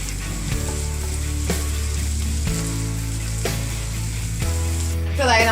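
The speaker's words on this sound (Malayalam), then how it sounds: "നന്നായി ഇളക്കി കൊടുക്കുക." Food frying in a pan is stirred, a constant close sizzle with regular scraping strokes under a steady low hum of background music.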